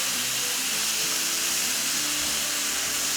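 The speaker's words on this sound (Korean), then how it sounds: "전기 그릴팬에 이제 구워보려고 하는데요. 잘 달궈진 팬에 48시간 이제 숙성한 목살을" Pork neck aged 48 hours in a galbi-style marinade sizzles on a well-heated electric grill pan, a steady, dense frying hiss that stays even and close throughout, with no talking.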